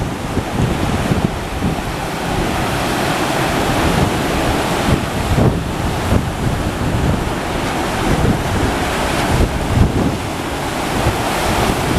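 Ocean surf breaking along the California coast near Highway 101, with strong wind buffeting the microphone; a continuous loud wash of waves and gusty roar throughout, no voices.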